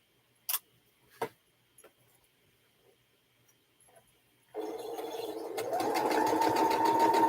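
A sewing machine stitches quilt sashing, starting after a few scattered clicks and taps, then running in a fast, steady, close mechanical whir that speeds up toward the end.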